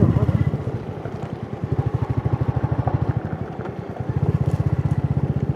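A Royal Enfield Bullet motorcycle being ridden, its loud, steady thumping single-cylinder beat running close and continuous, with the rhythm briefly easing and then picking up again.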